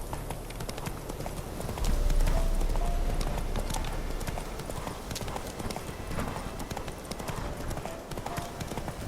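Roach, a horse in a video game, gallops continuously with dense, rapid hoofbeats that stay loud and close throughout, swelling slightly early on, with no talking over them.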